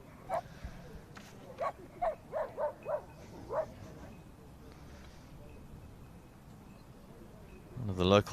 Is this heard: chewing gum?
no